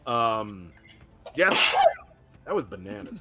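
A single sharp sneeze bursts out mid-conversation during an online tabletop role-playing session, preceded and followed by people talking close to the microphone.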